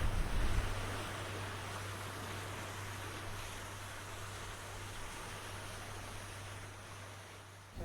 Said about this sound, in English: I hear the waves breaking